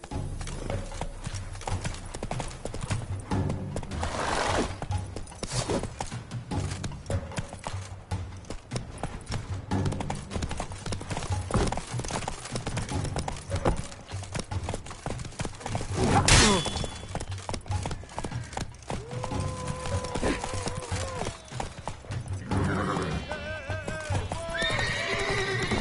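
Horse galloping in The Witcher 3: Blood and Wine on PS5, with rapid rhythmic hoofbeats and neighs throughout, alongside clashing and breaking effects and brief voices.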